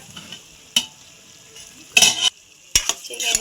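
Chicken frying for curry while being stirred in a pan: three bursts of scraping and clattering, the longer ones later, over a soft sizzle in between.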